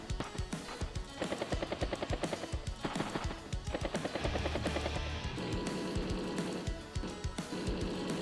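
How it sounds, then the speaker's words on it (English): In the Advance Wars: Days of Ruin video game, an anti-air unit fires on a battlecopter in rapid rattling bursts, moderately quiet, with mechanical battle noise and music underneath. "Anti-air takes out the battlecopter."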